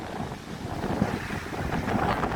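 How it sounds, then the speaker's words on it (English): Strong gusts roar and buffet the microphone in a steady, heavy rush at Wentworth Woodhouse stately home grounds, with no voices. "It's extremely windy today."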